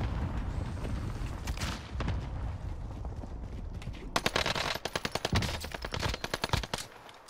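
Rifle fire in Warzone, first a muffled rumbling stretch, then a rapid string of sharp, loud shots in quick succession near the end, close and punchy, no talking.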